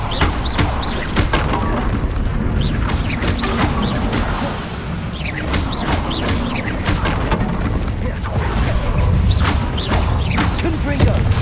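Incendio fire spell in Hogwarts Legacy, a sustained roaring whoosh of flame mixed with crashes, thuds and creaking game effects, dense and loud throughout with a brief dip midway.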